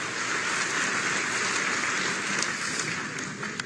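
Sustained crowd applause fills a police sub-inspector recruit ceremony in Uttar Pradesh, a steady dense patter of many hands clapping at even loudness throughout, with no voices over it.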